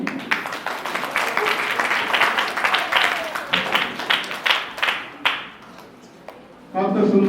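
An audience at a puja gift-giving event claps steadily in a dense, close burst of applause for several seconds. It thins out, and a voice speaks at the very end.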